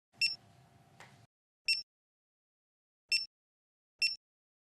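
Secura Key standalone access-control keypad giving sharp electronic beeps as buttons are pressed during timer programming; four short separate beeps spaced over a few seconds, close and clear, with a low hum under the first.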